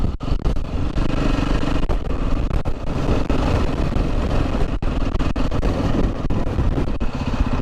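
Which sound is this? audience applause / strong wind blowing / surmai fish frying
strong wind blowing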